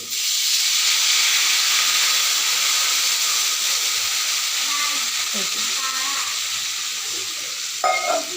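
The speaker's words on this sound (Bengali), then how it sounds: "এবার এর ভিতরে দিয়ে দেবো একটু জল।" Water poured into a hot pan of caramel for olive chutney sets off a loud, continuous steam hiss and sizzle that roars steadily for several seconds, with faint clinks near the end.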